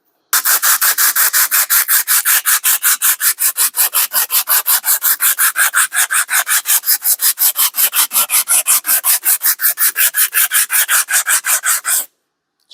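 A vintage brass hammer is sanded by hand with 150-grit sandpaper, a fast, regular series of rough rasping strokes, close and loud, running for about twelve seconds with no talking.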